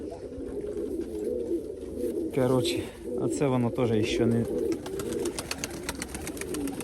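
Nikolaev pigeons coo in repeated rolling, throaty calls over a steady background murmur of other birds, close by, while someone speaks briefly.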